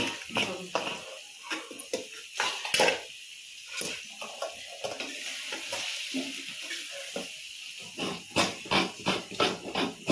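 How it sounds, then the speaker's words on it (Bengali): Coconut frying in a pan for a home-cooked offering gives an uneven sizzle with scraping stirs and crackling pops, fairly quiet and close. "আর এখন ফ্রাই করছে। রাধা কৃষ্ণের জন্য নারকেল পোড়া হচ্ছে"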